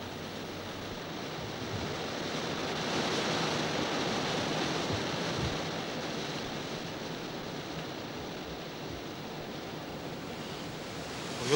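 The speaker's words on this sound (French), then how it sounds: "Oui, il fait beaucoup de vent aujourd'hui." Strong Mistral wind blowing through the Panier quarter of Marseille, a steady roaring rush of wind noise that swells slightly and holds for several seconds, with no voices.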